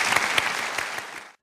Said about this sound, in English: Please give yourselves a quick round of applause.